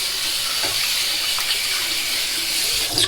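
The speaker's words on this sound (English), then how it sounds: "let's rinse the head off with some nice cold water" Cold water runs steadily from a tap in a bathroom during a shave rinse, a constant bright hiss with no talking, ending in a short splash.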